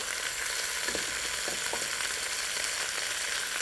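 Vegetables sautéing in a pan with turmeric and spices for an Indian soup, a steady close sizzle with a few soft stirring scrapes, no voices.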